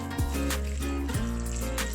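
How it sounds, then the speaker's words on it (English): Water poured into a bowl of dried cassava flakes for abacha, a steady close trickle and splash with a deep, filling resonance running throughout. "And equally add water."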